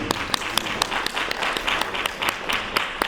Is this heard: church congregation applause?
yes